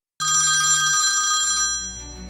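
A telephone bell rings loudly and steadily, a bright continuous trilling ring that holds for about a second and a half before fading, with a brief click at the end.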